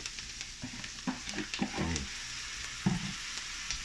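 Rice tipped into a pan with a few sprigs of thyme, a soft frying crackle with brief clatters and a rustling pour near the middle, fairly quiet and close.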